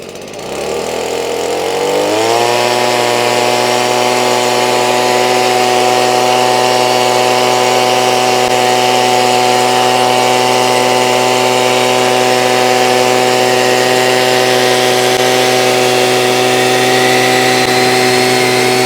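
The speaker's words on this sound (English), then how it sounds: "Let's go ahead and fire up the blower." A blower aimed at a dog door with a security panel in place starts up, quickly rises in pitch and then holds a loud, steady roaring drone for many seconds, with no voices.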